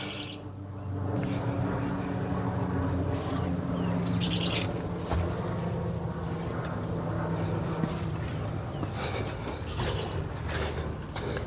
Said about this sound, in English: You can actually hear the birds are chirping